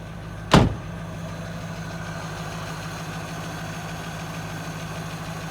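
A 1952 Buick engine idles steadily after sitting for 26 years, a low continuous hum throughout, opened by a single sharp knock or door-like thump near the start.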